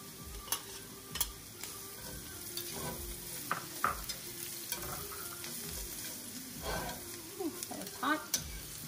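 Minced garlic hitting a hot pan for salmon in a creamy lemon garlic butter sauce, a constant close sizzle with scattered clinks and scrapes of stirring.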